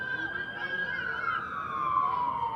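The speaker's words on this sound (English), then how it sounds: "amidst the sirens in the background." Emergency vehicle siren wailing in the background at a girls' varsity lacrosse game, a steady gliding tone slowly falling in pitch, moderately distant.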